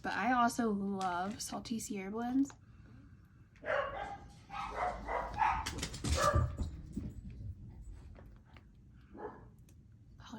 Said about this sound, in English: Apologize for my dogs.